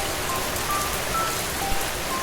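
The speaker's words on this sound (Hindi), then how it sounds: "सुबह से रुक रुक कर बारिश हो रही थी" Steady, close rain falls continuously over an open courtyard, a dense even hiss with no voices.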